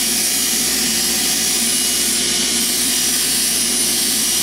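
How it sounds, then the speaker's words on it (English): Metal shaft deburred and polished against a spinning Scotch-Brite wheel, producing a loud, constant, broadband whir and hiss that stays even for the whole stretch with no talk. "Now deburring it with the Scotch-Brite wheel."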